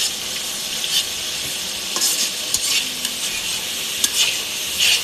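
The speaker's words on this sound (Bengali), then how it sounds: "আদা বাটা, রসুন বাটা, মরিচ বাটা, জিরা বাটা সম্পূর্ণ দিছি, দিয়ে এখন কষাইতেছি।" A paste of ground ginger, garlic, chili and cumin frying in a pan while being stirred, with soft continuous sizzling broken by scraping and spoon strokes at irregular intervals.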